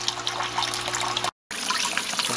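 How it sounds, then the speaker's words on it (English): Water pumped out through the clean-out valve of a hydroponic system after flushing with clean water: a steady close trickling and pouring stream over a low pump hum, briefly cut to silence midway. "now I'm having to pump it out through the clean out valve"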